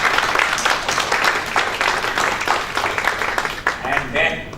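A seminar audience gives its panelists a round of applause, with full, continuous clapping of many hands throughout that tapers slightly at the very end.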